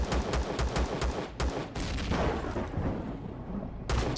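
Rapid bursts of sentry gun fire from Empyrion Galactic Survival, a string of sharp close shots in quick succession, a pause, then a fresh volley near the end, loud over a rumbling game backdrop.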